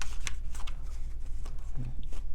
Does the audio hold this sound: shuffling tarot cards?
yes